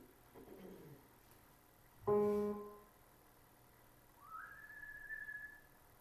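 A person whistles a few short notes, one sharp loud chirp followed by a rising, sustained whistle, faint and indoors in a quiet room, with no talking.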